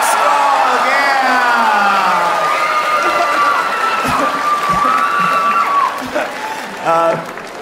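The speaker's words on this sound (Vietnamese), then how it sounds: "những tràng pháo tay và những lời hưởng ứng nồng nhiệt như thế này" Loud, sustained applause mixed with cheering and whoops from a studio audience at a televised dance show, a dense continuous roar with excited shouts rising above it, thinning briefly toward the end.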